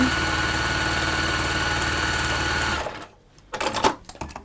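A sewing machine runs steadily, stitching a straight line a quarter inch in on fabric, its even motor whir and rapid needle rhythm loud and close for nearly three seconds before stopping, followed by a few soft handling clicks.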